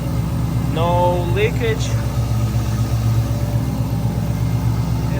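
An LS-swapped Nissan S14 runs steadily on a dyno, a loud, continuous low engine drone throughout with a brief voice speaking over it near the start.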